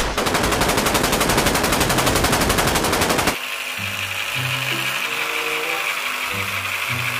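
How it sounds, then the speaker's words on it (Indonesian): A toy sniper rifle rattles out a rapid burst of electronic machine-gun fire, then switches to a bright beeping jingle. "di sini ada mainan tembakan sniper"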